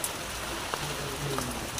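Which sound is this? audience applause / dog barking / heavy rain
heavy rain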